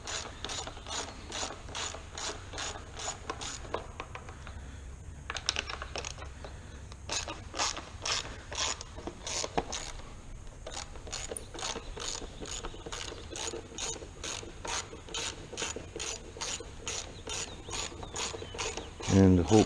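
A ratchet wrench with a 10 mm socket backs out seat bolts on a Hawk 250 motorcycle, giving long runs of rapid close clicking with a few short pauses, then a louder clunk at the end.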